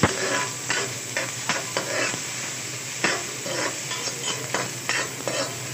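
Garlic and onion fry in a pan for a home-cooked fish dish while a utensil stirs them, steady sizzling broken by repeated scraping strokes, close and clear with no talking.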